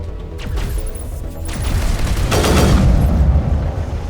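Heavy bursts of enemy gunfire in the Mass Effect video game's Eden Prime battle, loud, dense rattling volleys with booming impacts, steady and continuous with no talk over it.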